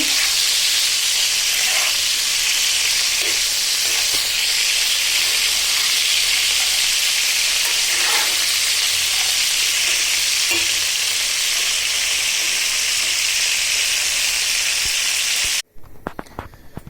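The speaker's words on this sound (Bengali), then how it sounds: "আর এদিকে আমি চিংড়ি মাছগুলো ভেজে নিচ্ছি" Shrimp frying in oil in a wok, a loud, dense, continuous sizzle and hiss that holds steady before cutting off abruptly near the end.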